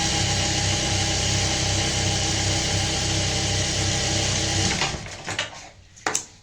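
Sewing machine stitching a slit in a fabric sleeve, a steady close-up mechanical whir running continuously for several seconds, then stopping with a few soft clicks and handling noises.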